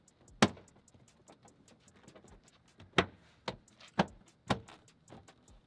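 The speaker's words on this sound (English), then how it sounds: "we can go ahead and pop the rest of the door panel back into place" A series of sharp plastic snaps and clicks as a GM Silverado interior door panel's clips pop into place, several loud pops spaced irregularly among quieter rattles and handling noise, close up.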